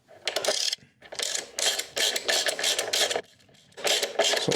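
Bolts on the rear luggage rack of a BMW R1300 GSA being tightened with a ratchet, giving several loud close bursts of rapid clicking that stop for brief pauses, with no talking.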